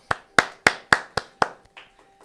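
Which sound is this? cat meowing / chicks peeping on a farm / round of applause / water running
round of applause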